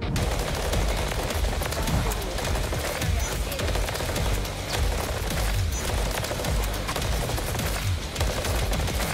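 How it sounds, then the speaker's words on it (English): Near-constant automatic gunfire from a Call of Duty MW3 ranked match, with dense overlapping bursts and thumps forming a steady loud roar that leaves no quiet gaps. "Teammate is shooting me in the back of the head."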